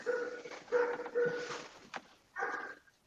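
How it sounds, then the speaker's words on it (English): A neighborhood dog barks several times in short bursts, heard at a moderate distance with no talk over it. "there's a dog somewhere in the neighborhood"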